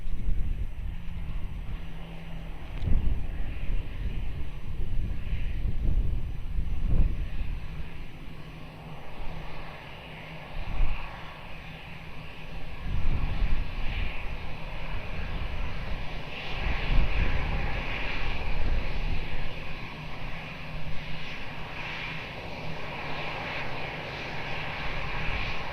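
Airplane engines roar at Lisbon Airport near runway 02, a steady loud wash of jet noise rising and falling slightly over nearly half a minute, heard alone without voices.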